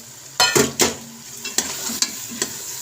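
Chickpeas fried with cinnamon, black cardamom, dried coriander and cloves for restaurant-style chana give a low sizzle, punctuated by a few sharp, loud scrapes and knocks of a spoon in the pan.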